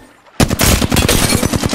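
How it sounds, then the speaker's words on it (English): Rapid automatic gunfire from computer-controlled bots in a battle-royale shooter game, bursting in loud and close after a brief quiet moment, with dense repeated shots continuing without a break. "Bots are shooting at me."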